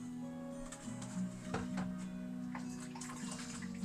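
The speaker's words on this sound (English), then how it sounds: "just wash my hands in a clean bowl of" Hands sloshing and splashing in a bowl of hot soapy water beside a kitchen counter during chicken tikka marinade prep, soft intermittent water sounds over a steady low hum.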